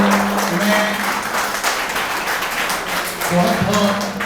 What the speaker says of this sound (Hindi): जोरदार तालियां बजाइए अपने लिए